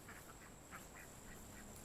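Ducks on a farm quack in a few short calls as they pass, fairly faint against a steady background hiss with light rain.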